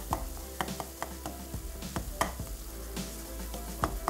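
Spices frying in a pan while being stirred, a quiet steady sizzle broken by frequent small scraping and tapping strokes from the utensil, close and without talk.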